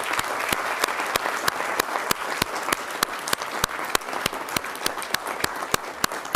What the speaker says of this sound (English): So round of applause for our finalists.